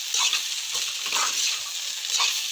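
Chopped tomatoes frying in a pan while being stirred, with a close sizzle that swells and fades in uneven bursts alongside scraping strokes of the spoon, and no one speaking.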